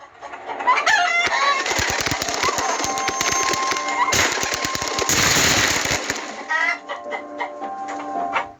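Chickens in the horror video game Evil Nun give out clucking and crowing calls, bursting out near the start and again toward the end over a dense, steady layer of game noise with rapid crackling bursts.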